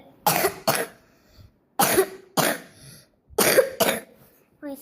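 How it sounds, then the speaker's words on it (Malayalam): A person coughs harshly and repeatedly, in short pairs of bursts separated by brief pauses, close to the microphone. "ഭയങ്കര ചുമയുമുണ്ട്"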